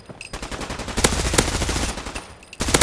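Rapid automatic gunfire from the video game Fallout 4, heavily modded for a winter overhaul, sounds as a loud close sustained burst of shots with a few sharper cracks and brief pauses.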